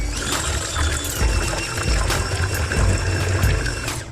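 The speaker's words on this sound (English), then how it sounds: "Now I'm gonna mix these until fully incorporated." Mixer beating red velvet cheesecake batter with sour cream, buttermilk, vanilla extract and vinegar, a continuous loud churning whir with wet splattering texture, steady throughout.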